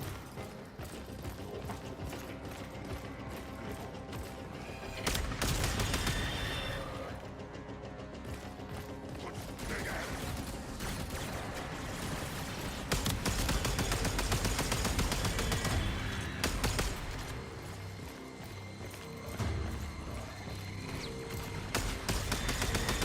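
Dense, continuous gunfire and mechanical weapon noise from the video game Warframe, rapid rattling shots layered with clanking and whirring, loud and busy with few breaks.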